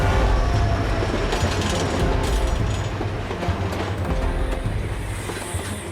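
A train crossing the desert rolls along its rails in a continuous loud rumble, with rhythmic clickety-clack of wheels and metallic rattling throughout.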